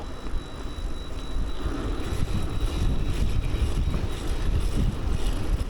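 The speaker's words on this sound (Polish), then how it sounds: "wspaniały arktyczny wiatr z północy" Cold arctic wind blowing from the north buffets the microphone in a steady, loud broadband rush for the whole stretch, with gusty swells and a low rumble underneath.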